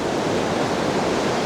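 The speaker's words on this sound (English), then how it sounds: "Every single wave that's coming in is just so dynamic" Ocean waves surge and wash along a seashore in a steady, dense hiss of rushing water with no distinct breaks, heard alone and fairly close.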